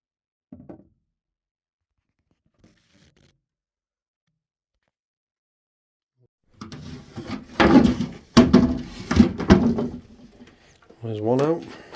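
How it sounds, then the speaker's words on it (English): A wooden drawer is pulled out of an old shoe rack, giving a few scraping knocks and thumps at close range, with a voice speaking briefly near the end. "take these, at least the top two of these drawers out"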